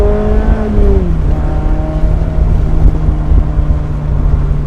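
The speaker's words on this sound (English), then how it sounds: "Hit the red line." A 2024 ND3 Mazda Miata engine revs hard up toward its 7,500 RPM red line, then the pitch drops sharply as it shifts and settles into a steady, loud drone close by.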